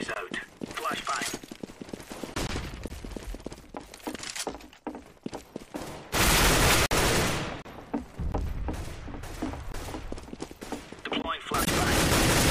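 A decoy grenade in Counter-Strike: Global Offensive fires fake gunshots: dense, rapid bursts of gunfire with loud sustained blasts, heard under ongoing talk.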